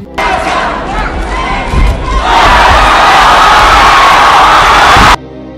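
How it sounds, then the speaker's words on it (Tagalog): A stadium crowd roars loudly during a boxing match knockdown, the noise swelling into a sustained, dense wall of cheering and shouting that holds at full volume for several seconds before cutting off. "malakas na hiyawan ng mga tao sa loob ng stadium"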